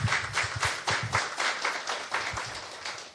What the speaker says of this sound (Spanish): Un fuerte aplauso para nuestro Señor.